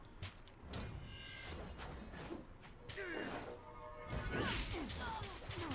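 A crash and smash inside a fantasy video game as something breaks to pieces, with several sharp impacts, swishes and bright shattering hits layered over game sounds and music.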